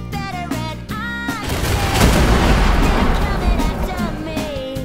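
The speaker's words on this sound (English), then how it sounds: "We took the military vehicles into a sinkhole. And we exploded them so no one can use them anymore." Video-game military vehicles blowing up inside a sinkhole: a sustained, loud rumbling roar of explosions and debris swells in after a short musical intro and carries to the end, with faint game music underneath.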